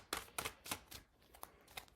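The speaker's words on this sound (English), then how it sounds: "Not sure why I'm shuffling upside down." Tarot cards being shuffled by hand, a series of sharp papery riffles and flicks, a few quick bursts in the first second then lighter, spaced taps, close and crisp with no talk.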